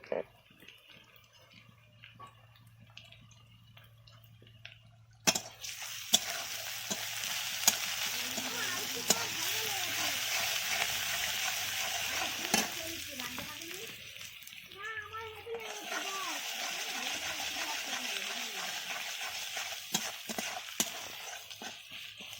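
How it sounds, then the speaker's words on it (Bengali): Chopped onion fries in a pan, seasoned with salt: quiet for the first few seconds, then a steady close sizzle with occasional stirring clicks, with faint voices underneath. "পেঁয়াজটা ভাজা ভাজা হয়ে এসছে"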